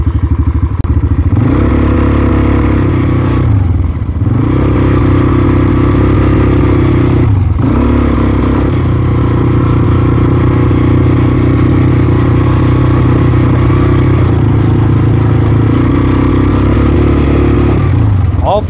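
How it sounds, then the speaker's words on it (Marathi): ATV engine riding off-road through a forest trail in Goa, a loud close throbbing drone that rises and falls with the throttle, with rattles from the rough ground throughout. "खूप छानपैकी ATVची राईड आहे"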